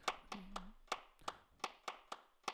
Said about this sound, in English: you'll hear it in the hand claps if I solo those. These are virtual hand claps, by the way.